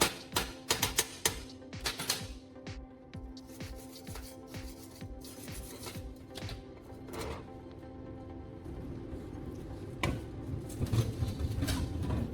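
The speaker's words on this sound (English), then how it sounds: "After welding, I'll clean the slag as before." Chipping and brushing welding slag off a fresh weld on steel: fast runs of sharp metallic taps and scrapes, close and moderately loud, with a steady background hum and no talk.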